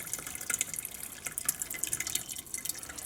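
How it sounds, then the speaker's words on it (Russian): Previously boiled water pours from a kettle into a metal saucepan while a salve is being prepared, giving a steady close trickle with bright dripping and splashing for about three seconds and no talk over it. "Наливаем водички."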